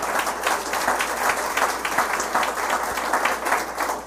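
Clapping from a church congregation giving praise during a Sunday service, many hands near the microphone beating in a fairly steady rhythm, moderately loud and sustained for several seconds.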